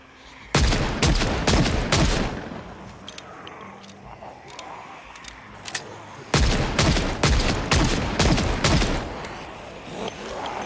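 Repeated bursts of video-game gunfire shooting at zombies in Big City Burger Flipper, two loud rapid volleys of shots separated by a quieter stretch with scattered single shots.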